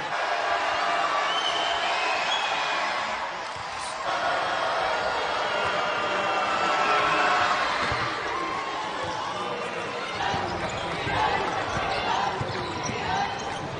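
A spirited basketball arena crowd at a women's college game cheers and roars in broad, swelling waves, with ball bounces and a commentator's voice carrying over the noise.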